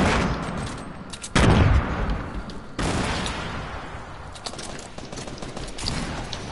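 Grenades thrown in a video game go off as two sharp, loud booms a second or so apart. Rumbling gunfire-like noise fills the rest of the stretch.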